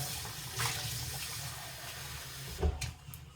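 Water running steadily from a kitchen tap for thinning a flour batter, a continuous hiss with a brief louder splash near the end, no talk.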